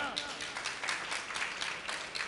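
Audience clapping at a Jain festival gathering, a burst of dense applause with distinct claps pulsing through it, fairly close and loud, with a voice faintly mixed in.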